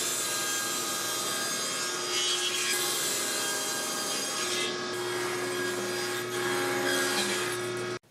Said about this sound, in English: I cut a piece of sumac to length